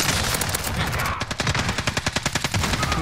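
A Vector submachine gun fires in a video game: a wash of shots at first, then rapid, evenly spaced loud bursts close up, with no talking.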